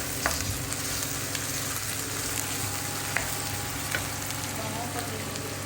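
Garlic and onion sautéing in a pan, a steady, close hiss of frying oil with a few small pops and crackles throughout.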